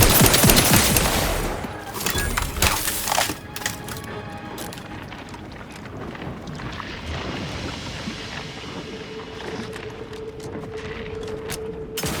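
A loud, crackling burst of gunfire opens the scene in the shooter The Outer Worlds 2. It fades into sporadic distant shots and clatter over a low ambient hum, with a steady tone rising near the end.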